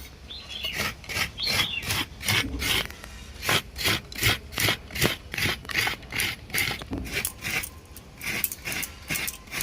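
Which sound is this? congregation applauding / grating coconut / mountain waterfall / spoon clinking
grating coconut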